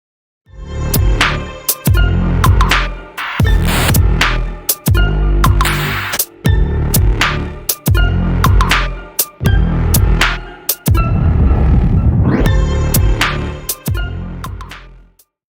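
Upbeat theme music for a tokusatsu, anime and games podcast plays loud and full for about fifteen seconds, with strong rhythmic band hits, a steady pulsing beat and bright cymbal crashes throughout, no talking.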